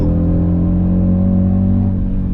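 An Audi RS Q3 with a roughly 400 PS engine accelerates after a downshift, giving a loud, steady engine drone that climbs in pitch over about two seconds, heard from inside the car without speech.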